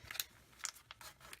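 Scissors snip through paper in a few quick, faint cuts spaced apart, close but quiet.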